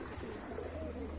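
Domestic pigeons kept in a home loft in Hazaribagh, Old Dhaka, give soft low coos close by over a steady low hum, with no talking.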